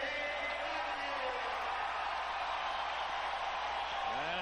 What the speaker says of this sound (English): a standing room only crowd here in the Met Center